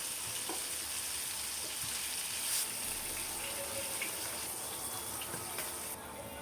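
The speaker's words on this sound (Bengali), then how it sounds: "এভাবে লাল লাল করে আমি কাঁকড়গুলো ভেজে নিব" Spiny gourd (kakrol) pieces frying in a pan beside fish, a continuous soft sizzle with faint clinks and stirring scrapes. The sound stays close and even, then drops slightly at the very end.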